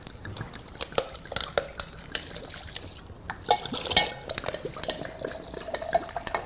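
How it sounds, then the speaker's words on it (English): Ice cubes in a glass crackle and clink as red wine is poured over them before lemonade, with sharp close ticks, pops and liquid sloshing, no talk. "I love it when the ice cracks."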